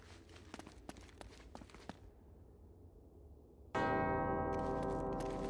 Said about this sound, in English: Two bells resound in perfect harmony.